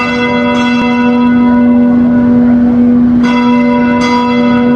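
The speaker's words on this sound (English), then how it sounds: "the streets of Paris, London, and Berlin echoed only with the sound of church bells" Church bells ringing out over a European city, a loud sustained tone with rich overtones, renewed by fresh strikes about every second or so and left ringing between them.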